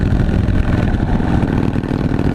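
A 2013 Harley-Davidson Dyna Super Glide engine runs loud and close with a dense, rumbling low-end throb, a steady, slightly uneven beat throughout and no talking.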